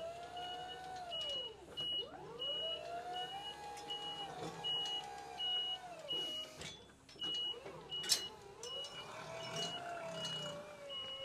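A 2018 Skyjack SJIII3219 electric scissor lift driving, with a whining motor that rises and falls and a repeating warning beep over steady mechanical hum, heard at close range.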